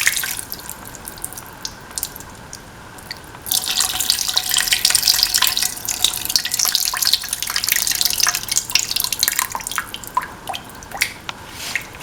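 Tamarind water is poured into a cooking pan, a loud continuous splashing and trickling rush that starts after a few seconds of quieter dripping and runs steadily to the end, with no talking.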